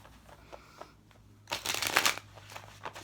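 A tarot card deck is shuffled close by: faint riffling at first, then a loud, dense burst of rapid card flutter lasting about a second, tapering into lighter shuffles.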